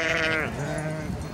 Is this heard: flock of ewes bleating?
yes